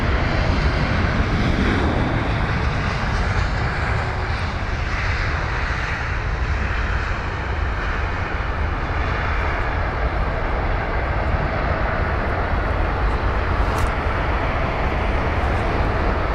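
An Airbus A320 airliner with retrofitted sharklets at London Heathrow gives a loud, steady broadband jet roar that fills the whole stretch without a break, with no voices over it.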